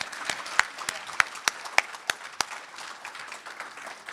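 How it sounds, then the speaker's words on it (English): Quiet applause from a conference keynote audience, with a few sharp, separate claps standing out over a soft wash of clapping that thins toward the end. "Can we give a round of applause for that incredible effort?"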